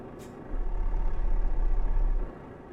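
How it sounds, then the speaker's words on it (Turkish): A Volvo FH5 truck engine in the video game Euro Truck Simulator 2 rumbles up to a deep, steady drone for a couple of seconds, then drops away, with no talking. "Volvo'nun kendi bildiğimiz motor sesi."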